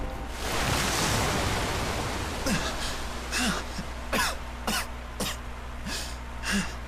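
A character in the game Tales of Xillia gives several short coughs in an irregular series over a constant hissing background, moderately loud and close.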